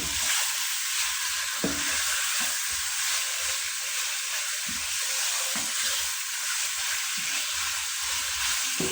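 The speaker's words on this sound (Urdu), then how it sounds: "اب یہ ہم نے مسالے ڈال کے اس کے اندر ہم نے تقریباً 2 سے 3 منٹ اس کی بھنائی کر لی ہے" Masala spices fry for chicken karahi in a hot pan, a constant loud sizzle and hiss with occasional soft knocks from stirring.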